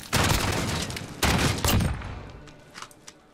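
Shotgun fire in a Call of Duty 2v2 Gunfight match, a few heavy blasts in quick succession, loud and close, followed by fainter distant shots as it fades.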